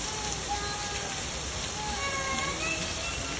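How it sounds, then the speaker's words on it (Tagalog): Steady rain falls in Honolulu, an even, unbroken hiss at moderate level with faint tonal sounds drifting beneath it. "umuulan na naman"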